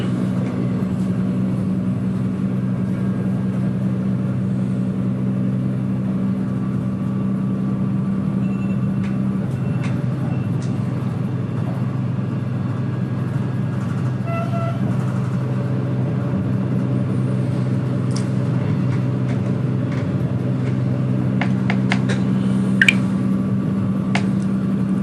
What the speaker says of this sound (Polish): Pociąg zbliża się do przejazdu generalskiego.